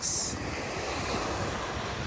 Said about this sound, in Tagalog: Lalo na yung ano, yung alon. Ang sarap pakinggan eh.